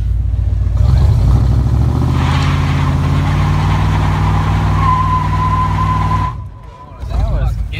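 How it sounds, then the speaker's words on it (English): A Chevy car revs hard for a burnout, a loud close engine roar holding steady for several seconds, then a sharp drop and a short rising rev at the end. "Zach wants to do a burnout"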